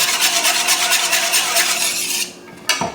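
Steady brisk whisking of a dressing for roast chicken salad in a bowl, a dense continuous scraping swish that runs close and even, then stops abruptly near the end with a brief final clink.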